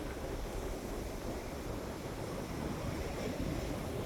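Strong wind sweeping across a wide beach near a cave in Thailand, a steady loud broadband roar with surf-like rushing that carries on without a break and without any voices.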